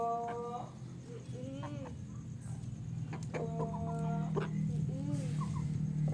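Rooster and hens clucking while pecking at white bread, a steady run of close clucks and short calls over a constant low background hum.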